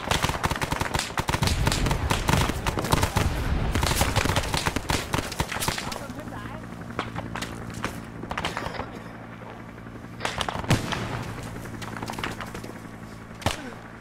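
Gunfire in a Vietnam war video game cracks in rapid, loud bursts at first, then thins to scattered single shots and thumps over a low drone, with faint voices now and then.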